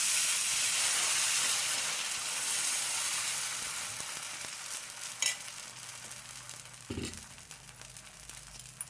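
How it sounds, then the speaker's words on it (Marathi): Thick dosa batter for a dosa pizza, spread on a hot tawa, gives a broad sizzling hiss that is loudest at first and slowly fades, with a few small pops and scraping touches near the end. "तवा आपला गरम झाला आहे। आपण याच्यावर जाडसर असा डोसा पसरवून घेऊया।"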